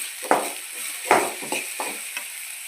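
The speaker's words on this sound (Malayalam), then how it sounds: "നന്നായിട്ടൊന്ന് ഇളക്കി കൊടുക്കും" Salted onions fry in oil in a pan with a steady close sizzle, while a spoon stirs them in several distinct scraping strokes.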